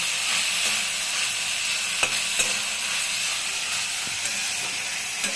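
Spice paste for a Bengali boroli fish curry fries in oil with a steady, close, loud sizzle throughout, with a few faint clicks of a utensil and no talking.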